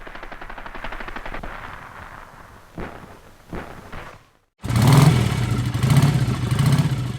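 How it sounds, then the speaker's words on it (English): Small arms fire and explosions in a 1940 battle with Dutch troops at the Rotterdam, Dordrecht and Moerdijk bridges; rattling bursts of gunfire, then sharp blasts, a brief silence and a loud, dense barrage. "the air is filled with the sound of small arms fired and explosions"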